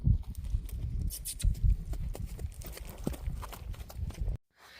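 Heavy, irregular hoof thuds and scuffling of a panicking horse bucking close by, trying to throw its saddle, stamping and shifting without a steady gait, ending abruptly.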